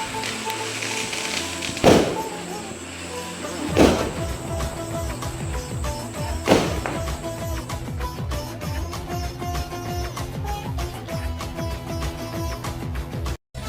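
Firecrackers burst at night during a home Diwali celebration: three sharp, loud bangs spaced a couple of seconds apart, followed by a long run of rapid crackling pops that stops abruptly.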